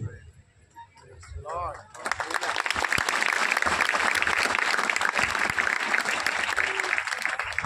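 A church congregation applauds during an Odia-language sermon. Someone speaks briefly, then sustained, loud clapping starts and continues to the end.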